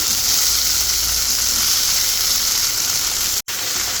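Poha with softened tomatoes sizzles steadily in a pan over low gas as it is mixed in, a continuous close hiss of frying with one brief dropout near the end.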